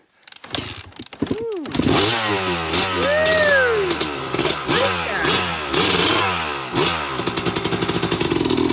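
A dirt bike's engine, ridden on a trials course, revs up hard after a brief start. Its close, loud snarl rises and falls in repeated throttle blips, then settles into a rapid, choppy idle.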